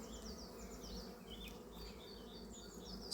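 Honeybees at an open beehive during a frame inspection, a dense steady buzzing drone throughout, close and continuous, with faint birdsong in the background.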